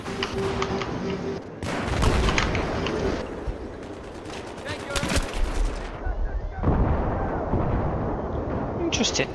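Battlefield 3 gunfire in Rush mode on the Seine Crossing map, with heavy automatic bursts and booming blasts that rise and fall in waves and stay loud and dense almost throughout.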